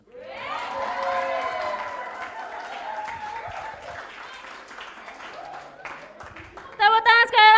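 An audience at a church Christmas service and celebration claps and cheers after a poem recital, the steady applause running under a speaker's voice before a louder burst at the end.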